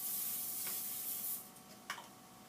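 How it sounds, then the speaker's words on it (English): A short spray of Pam cooking spray onto a baking pan hisses for about a second, then stops, followed by a faint clatter. "you want to spray it with Pam so that your brownies don't get stuck to the bottom"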